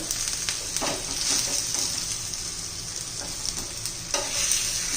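Cooked onion and tomato get stirred in a pan over a steady sizzle, with scattered spatula scrapes and knocks close up and no voices.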